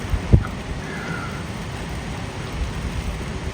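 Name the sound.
rain with wind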